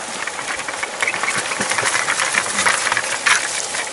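Dry leaf debris pours and rustles into gaps in a tipi wall, a continuous crisp crackling shower with a few louder patters, close by.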